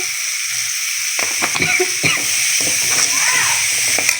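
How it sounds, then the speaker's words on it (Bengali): Potatoes are stirred with a little ground garam masala in a hot pan, giving a steady sizzle and hiss broken by scraping and clinking strokes of the spoon. "গরম মশলা দিয়ে লাড়াচাড়া করে নেওয়া হইতেছে"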